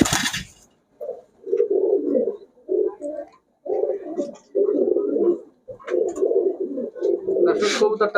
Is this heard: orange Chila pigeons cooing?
yes